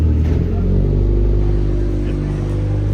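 Several classic cars driving out of an exhibition hall after a retro auto and motorcycle show, a loud, continuous low engine rumble with slight revving, filling the space.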